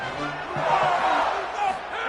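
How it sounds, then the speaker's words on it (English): Roaring stadium crowd at a Georgia vs Vanderbilt college football game, a steady loud wash of cheering and yelling with a commentator's voice over it. "they are talking about how the crowd noise is impacting them"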